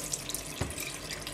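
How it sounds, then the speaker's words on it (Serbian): Tap water runs in a steady, quiet stream over diced lamb meat in a bowl, with a brief splashy surge partway through. "I prelit ću ne velikom količinom vode,"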